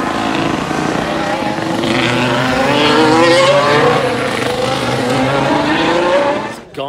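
Formula 1 cars roar past during qualifying at the Belgian Grand Prix, heard from the spectator area as a continuous loud engine drone with rising and falling pitch as the cars go by.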